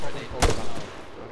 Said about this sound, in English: I've got shots off to the northwest now.